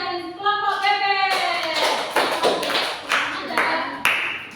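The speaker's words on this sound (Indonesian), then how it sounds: "tepuk tangan untuk Nada dari kelompok bebek" A classroom of students claps together for a student's group presentation, a near, loud burst of scattered clapping that follows a short stretch of speech and continues throughout.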